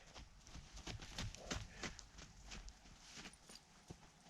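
A horse walking forward under a rider, its hooves clip-clopping in a steady, moderately close rhythm of distinct strikes on firm ground, fairly quiet and with no voices.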